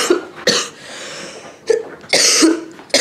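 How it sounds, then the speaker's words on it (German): A person coughs in several separate bursts, close to the mic, with short pauses and breaths between them and no talking. "Da habe ich einen Husten gehabt."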